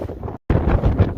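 Strong gusts of a cold windstorm batter the microphone on a mountain trail near Tehachapi, a loud buffeting roar in two bursts separated by a brief silent break.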